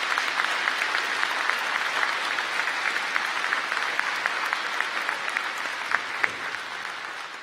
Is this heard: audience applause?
yes